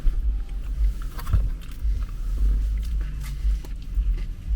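A bite into crunchy prosciutto pizza gives low, muffled crunching and chewing sounds, close to the mic, with no talk.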